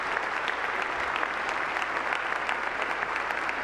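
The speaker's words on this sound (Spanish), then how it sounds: "Les damos un fuerte aplauso a nuestros seminarios." A congregation at a Catholic Mass applauds the seminarians, a dense, steady wash of clapping that holds at an even level throughout.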